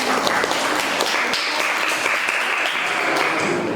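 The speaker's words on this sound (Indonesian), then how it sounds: "Berikan aplaus untuk kelompok 2 yang tadi." An audience of students applauds a presenting group, a dense, even wash of clapping that holds steady and loud throughout.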